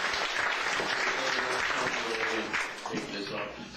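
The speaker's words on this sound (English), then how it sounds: "let's hear for Lenny, Chris, put your hands together for everybody." An audience of seniors at a comedy show applauds the performers, with full room-wide clapping that holds steady and then tapers off, mixed with some crowd voices.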